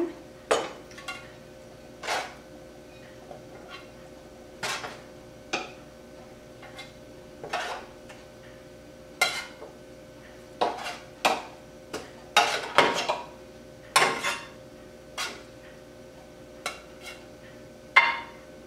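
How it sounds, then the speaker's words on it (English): Hamburger patties set one by one into a casserole dish at home, giving scattered soft clinks and taps of food and utensil against the pan, spaced irregularly, fairly close and alone without talk. "I'll be placing the hamburgers in the casserole dish."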